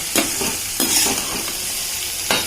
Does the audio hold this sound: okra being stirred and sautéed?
yes